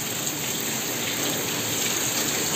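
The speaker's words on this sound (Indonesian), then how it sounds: "tapi hujan deras jadi saya nggak bisa keluar" Heavy rain pours down outdoors as a steady, dense hiss of constant volume with no breaks and no voices.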